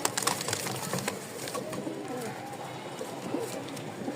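A pair of Lahori pigeons, a male and a female, cooing in a cage, soft repeated low coos close by over a steady background hiss.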